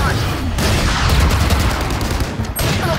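Rapid bursts of gunfire in the shooter game Valorant, loud and close, firing in clusters with a player's voice over the shots.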